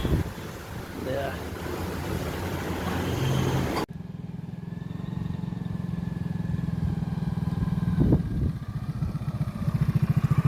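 Motorbike riding onto Lal Kankra beach near Mandarmani, engine chugging steadily at close range under heavy wind buffeting on the microphone, with a voice heard briefly over the ride.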